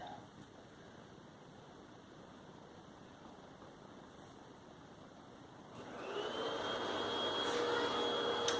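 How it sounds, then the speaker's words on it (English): Faint room hum, then a distant vacuum cleaner starts up partway through, its whooshing roar and thin whine growing and holding steady. "Apologies if you guys can hear the vacuum."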